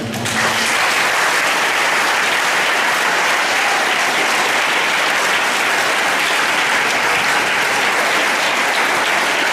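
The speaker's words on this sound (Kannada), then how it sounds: "ಒಳ್ಳೆ ಜೋರಾಗಿ ಚಪ್ಪಾಳೆ ತಟ್ಟಿ ಧನ್ಯವಾದಗಳನ್ನು" Sustained, loud audience applause from a crowd at an educational event on study skills for SSLC students, a dense wash of clapping that lasts throughout without voices.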